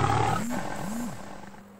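A lion roar used as a story sound effect, two deep, rising-and-falling growling bursts in close succession, loud and near, fading into a low rumble with no talk.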